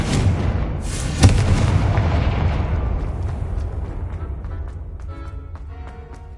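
Confringo blasting spell explosions in the game Hogwarts Legacy: a loud booming blast with a sharp crack, rumbling on and slowly fading, no speech.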